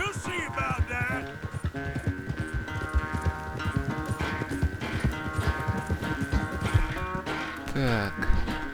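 Horse hooves galloping in the video game Red Dead Redemption 2, a quick rhythmic clatter of hoofbeats running under background music, with a voice briefly heard.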